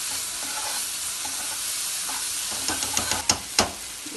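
Tomatoes fry in a pan with a couple of tamarind pieces for an egg gravy, a steady close sizzle with soft stirring, then a few sharp clinks and scrapes near the end.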